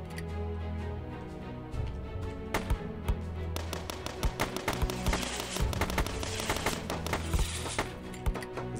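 Rapid, continuous weapon fire from a video game, Brick Odyssey, crackles along as dense, sharp bursts throughout, building up denser and brighter near the middle and end.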